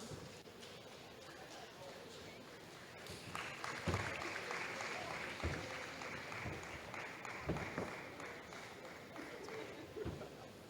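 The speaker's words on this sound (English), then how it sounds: "So please let's keep clapping while they come." Scattered clapping from a conference audience at an African women's EHS event, moderate and uneven, rising after a quiet start and continuing under a voice talking over it.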